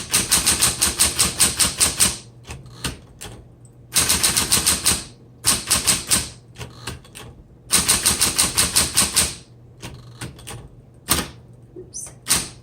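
Bursts of rapid key strikes on a 1960s Smith Corona Electra 120 electric typewriter, loud and close, arriving in three fast clattering runs separated by slower single clacks and carriage or mechanism thumps.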